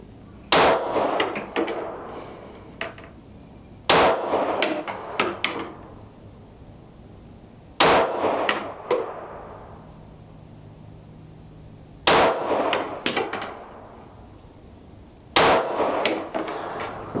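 A Ruger P95DC mid-1990s 9mm pistol fired at an outdoor range at a 10-yard target: five sharp, loud shots spaced three to four seconds apart, each with a ringing tail, with no talking.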